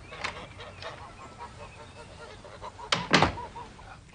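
A grey-headed goose honking in a few short, sharp calls, the loudest pair near the end, over a quiet background with a door-like thunk.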